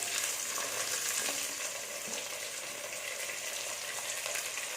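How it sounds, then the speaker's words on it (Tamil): Shallots and green chillies fry in hot oil for a Tamil mutton kudal kuzhambu, giving a dense, steady sizzle and crackle close up with no talk. "சேர்த்து இதை நல்லா வதக்கிடுங்க."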